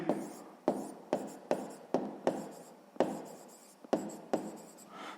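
A pen scratches a math solution onto paper in short, close strokes, roughly a dozen distinct bursts with brief pauses between them and no voice.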